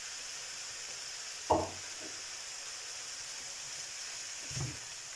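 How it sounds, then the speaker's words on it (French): Grated zucchini tipped into a beef nem filling frying in a pan: a faint, steady sizzle runs throughout, punctuated by two brief soft thuds of food and stirring. "Je vais rajouter maintenant les courgettes râpées, la courgette râpée"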